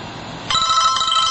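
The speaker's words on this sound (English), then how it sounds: "sorry about the phone." A Motorola Karma mobile phone starts ringing about halfway through, its electronic ringtone cutting in abruptly and sounding loud and steady through the rest of the moment. There is no speech.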